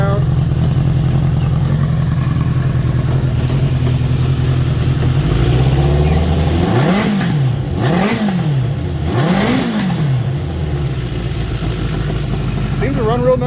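A 1976 Honda CB750K motorcycle engine runs steadily close by at idle, then revs in three rising-and-falling swells with popping and snorting from a leaky exhaust.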